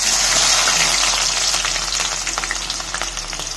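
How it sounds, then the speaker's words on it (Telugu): Sliced onions frying in hot oil in a pan with cinnamon, cloves and peppercorns for a green hariyali chicken dish. A loud, close, continuous sizzle dies down slightly, over a low steady hum. "ఈ జరసేపు ఫ్రై కాగానే కట్ చేసి పెట్టుకుని ఉల్లిగడ్డలు వేసుకోరి."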